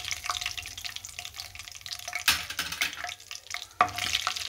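Small chopped pieces of turmeric root stirred in a pan over a low gas flame, a soft close sizzle with intermittent scraping and a couple of sharper clatters, no talk.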